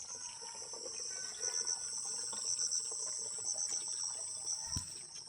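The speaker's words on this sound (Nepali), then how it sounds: "यता पानी भरिँदैछ जर्किनमा चाहिँ" Tap water runs steadily into a plastic jerrycan at an outdoor village water spout near a forest, a continuous wash of noise under loud, constant insect chirring, with one brief knock near the end.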